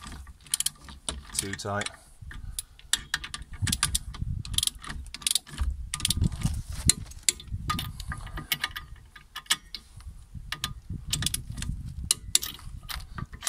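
A ratchet torque wrench tightens the wheel nuts on a wheel fitted with JSB hublocks, with quick runs of close metallic clicks repeating throughout and a brief remark spoken between them.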